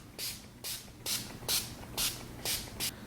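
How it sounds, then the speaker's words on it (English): Urban Decay All Nighter setting spray is misted onto a face in seven short, crisp hissing bursts at a quick, even rhythm, close and alone. "I'm going to be using the Urban Decay All Night Setting Spray"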